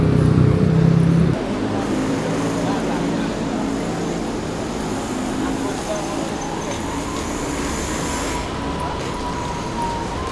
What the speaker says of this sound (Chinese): 外面的车流量太大了，